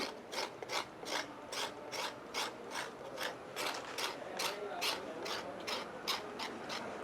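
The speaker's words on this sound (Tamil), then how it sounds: "நாங்கள் இந்த முழு கட்டையையும் துப்புரவாக்க வேணும் துப்புரவாக்கிட்டு பட்டையை உரிப்போம்" Rhythmic scraping of a stick of Sri Lankan cinnamon, cleaned with a tool before the bark is peeled, each stroke a sharp rasp in a steady, even series, close and clear with no talk.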